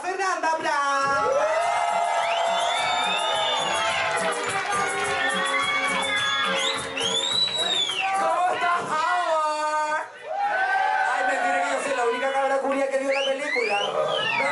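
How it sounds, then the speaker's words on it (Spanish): A lively crowd whoops, shouts and cheers continuously at a live show, with excited voices overlapping in a loud, energetic din. "fuerte el aplauso"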